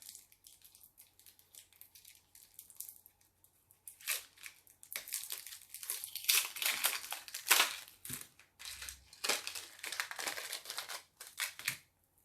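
MAC items are unwrapped from their packaging up close, with soft crinkling, tearing and rustling coming in uneven bursts, louder in the middle stretch.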